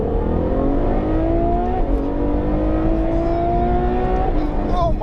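A Ferrari F12 Berlinetta accelerates hard, its engine note rising steadily through the gears with a brief dip at a shift, loud and continuous in the cabin, with a voice speaking over it.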